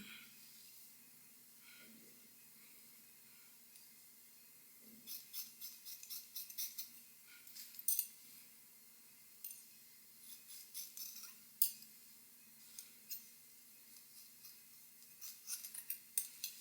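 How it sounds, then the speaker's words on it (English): Scissors snip layers into a blonde wig, bursts of short crisp cuts arriving in quick clusters with pauses between, close and fairly quiet over a low room hum. "And just open and close my scissors down."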